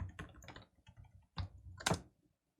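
Someone types a password on a computer keyboard, a few quiet, close key taps in small irregular clusters with a louder final keystroke, no voice.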